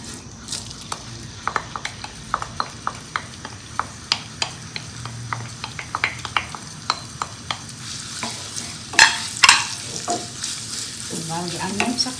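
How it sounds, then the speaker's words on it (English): Onions fry in a small amount of ghee with a continuous sizzle, broken by frequent sharp clinks and scrapes of a utensil against the pan, plus a few louder knocks near the end. "I'm going to add just a little bit of ghee, say half a teaspoon. I'm going to add the onions."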